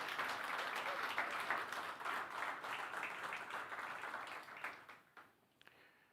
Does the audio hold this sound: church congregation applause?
yes